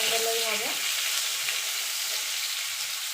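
Salted ridge gourd frying in a pan, producing a continuous, even sizzle close up, with a brief tonal sound fading out at the start.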